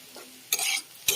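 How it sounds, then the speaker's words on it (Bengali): Chopped onion, cucumber and chilli frying for chow mein get two quick scraping stirs in a pan, short close bursts over a faint background hiss. "আর একটু ভেজে নেব"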